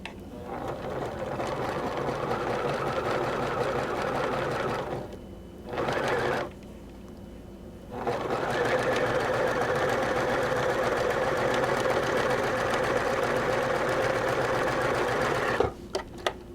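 A sewing machine stitches a freezer-paper-pieced quilt star, its steady rapid motor whir running loud and close in long stretches, stopping briefly twice in the middle before resuming.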